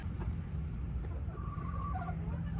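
Backyard coop chickens clucking softly at close range, a few short calls rising over a steady low rumble of wind or handling noise, no talking.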